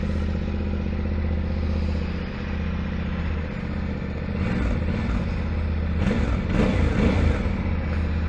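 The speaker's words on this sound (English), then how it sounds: "So let's go ahead and get this bike started. You guys can hear how it sounds." A 2023 Yamaha Ténéré 700 motorcycle with its stock exhaust idles nearby, giving a steady low engine drone with some mechanical clatter, then a slight rise in revs toward the end.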